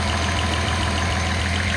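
A Datsun 280ZX turbo engine idles steadily and loudly, a dense continuous rumble with a low pulsing throb and no talk over it.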